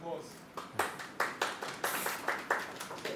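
A few people clap at a tech talk, with a slow, uneven handful of claps sounding close and fairly quiet.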